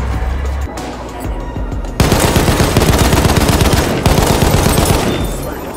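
Heavy automatic gunfire in the video game Battlefield 1, a loud continuous rattle that jumps sharply at about two seconds and keeps pounding in dense bursts, with a brief dip near four seconds before resuming.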